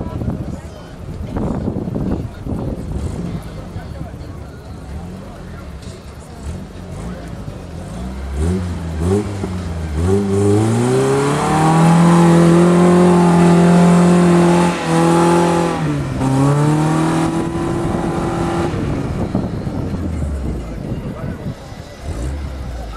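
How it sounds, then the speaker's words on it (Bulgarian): Off-road jeep engine revving hard during a winch recovery at an off-road event, a loud rising and falling roar held for several seconds in the middle, with voices talking over the engine noise before and after. "Закупчаваме колана и даваме газ."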